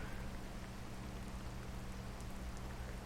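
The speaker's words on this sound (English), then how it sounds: "A rainfall this suddenly, that's just typical" Steady rain falls in the Sakura Spirit visual novel, a constant soft hiss of drops that stays even and quiet throughout, with no voices.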